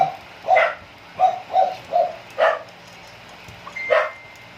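A dog barks about six times in short, sharp bursts, fairly close, with brief pauses between barks and a quiet background.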